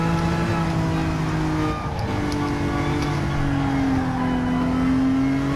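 Racing-game Honda NSX, a 2017 model in Group 4 spec, holds a steady, loud engine drone with shifting pitch as it slides through a drift, continuous and close throughout without talk.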